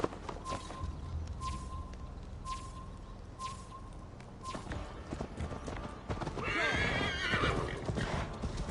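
A horse in a Viking-era video game neighs and whinnies while hooves clip-clop along, with repeated tonal chimes early on and a louder burst of whinnying and movement near the end.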